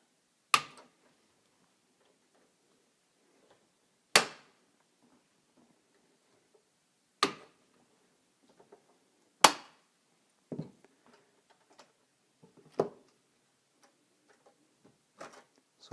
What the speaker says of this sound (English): take my tin snips and cut these